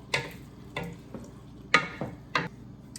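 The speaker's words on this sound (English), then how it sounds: "Now we're just going to stir this up real well." Stirring in a cooking pan, with four sharp scraping strokes spaced about half a second apart, close and fairly loud over a faint kitchen background.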